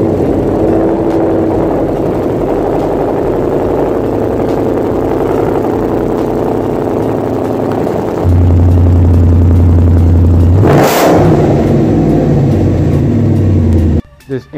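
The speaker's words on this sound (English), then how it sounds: "the Magnaflow exhaust." A car engine with a Magnaflow exhaust idles with a deep, throaty rumble, then surges in a sharp rev before dropping back to a low idle.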